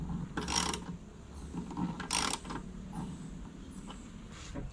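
Metallic ratcheting and clanking as a fitted spare tyre on a camper build is tightened, a few short bursts of wrench work close by with quiet pauses between, no talking.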